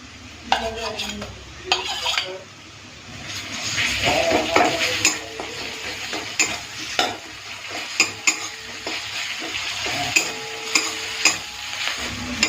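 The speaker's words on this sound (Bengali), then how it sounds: "দেখেই বুঝতে পারছেন আদা রসুনটাও ভালো করে ভেজে নিয়েছি" Ginger garlic paste frying in a pan, a soft sizzle broken by repeated scraping strokes and sharp metallic clinks of a spatula against the pan, fairly close and rhythmic.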